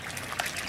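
Water draining out through a turned outlet from a small duck pond, a soft, quiet trickle and splash running steadily for a moment with no talking.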